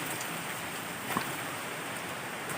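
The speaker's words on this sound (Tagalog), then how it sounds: "hindi tayo makalibot sa paligid ng bahay kasi lakas ng ulan" Heavy rain pours outside a house as a dense, steady hiss with no breaks, and a single faint tap stands out briefly midway.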